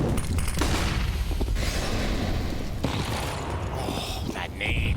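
A grenade blast and gunfire crackle during a professional CS:GO match at IEM Dallas 2022, a dense burst of bangs and debris layered under excited caster commentary.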